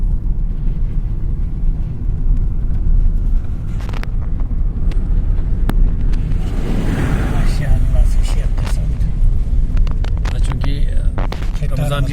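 A car drives along the Zojila mountain pass on the Kargil-Kashmir highway, its steady low engine and road rumble running throughout, with voices talking over it.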